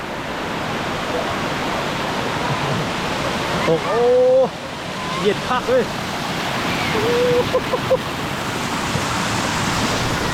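Tad Sae waterfall near Luang Prabang roars in a constant, close, broadband rush of falling water, with excited voices calling out over it.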